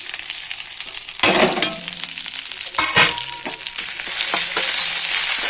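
Tamarind, cumin seeds, garlic, dried red chillies and coriander leaves fry in hot oil, a loud close sizzle with sharp bursts of spattering as the ingredients are stirred, continuing steadily with no voices.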